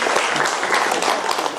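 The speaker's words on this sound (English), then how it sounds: "Round of applause." Brief burst of audience applause at a talk on thriving as a vegan, dense, steady clapping from many hands throughout.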